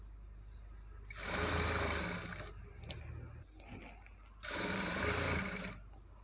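A sewing machine stitches the side slits of a lined Punjabi dress in two separate runs, each about two seconds long, with quiet pauses between them. The whirring is close and moderately loud, with no talking.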